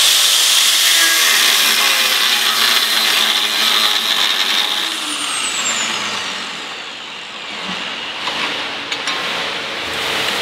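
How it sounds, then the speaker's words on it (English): An angle grinder cuts through steel plate outdoors, producing a loud, continuous high-pitched whine and grinding hiss that dips slightly midway and then resumes. "I think they're back at the house, so I'm just going to angle grind it."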